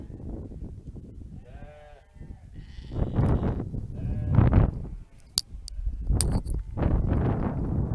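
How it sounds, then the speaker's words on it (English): Sheep and lambs bleating on Fair Isle, several wavering calls from different animals, some close and loud, others softer, spread across eight seconds with rustling and movement between them. "Breakfast time for lambs as well."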